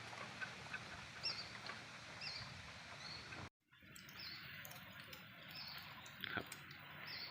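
Barbary (Muscovy) ducks raised on food scraps make soft quacks and calls over a steady outdoor background, with a brief cut to silence partway through before the calls resume.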